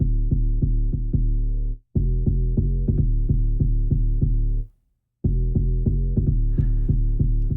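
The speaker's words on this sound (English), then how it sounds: "So I kind of started out just with this 808 rolling kind of" A rolling 808 drum machine groove with deep, booming bass kicks in a steady repeating pattern, loud and up front, broken by two short gaps of silence before the groove resumes.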